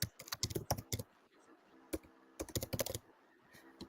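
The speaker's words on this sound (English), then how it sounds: "I'm just typing it up." Computer keyboard typing during an online video call: two quick bursts of crisp, close key clicks separated by a brief pause, quiet overall with no talk over it.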